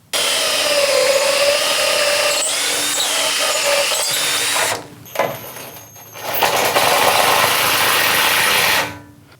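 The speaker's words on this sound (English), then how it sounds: "into the block through your pre-punched holes of the frame using a hammer drill" Hammer drill boring into concrete block during an aluminum entrance door frame installation: a loud, close, gritty grinding hammer that runs steadily for about five seconds, pauses briefly, then resumes for another three.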